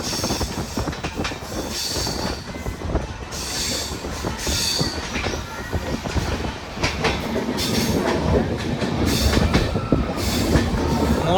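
A Kirandul passenger train runs along a hill railway, heard from onboard: wheels rumble and clatter rhythmically over the rail joints, with recurring metallic squeals, steady and loud throughout.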